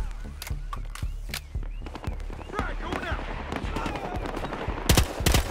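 MPX submachine gun fires in Battlefield Hardline, sharp bursts of rapid shots, some close and loud, others scattered and distant, under someone talking throughout.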